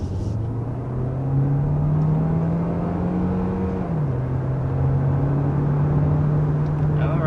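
2023 Hyundai Tucson Hybrid accelerating past 60 mph, a steady in-cabin engine and road hum with a rising drone tone that dips briefly midway, heard from inside the car.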